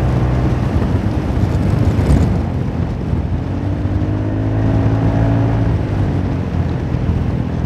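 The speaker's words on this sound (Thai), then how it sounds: "ก็รอบขึ้นไวมากรถวิ่งขึ้นไวมาก" A Honda Forza 350 scooter engine revs and accelerates on the road with a steady, loud, close drone, its pitch climbing and shifting as the bike picks up speed, with wind noise over it and no talk.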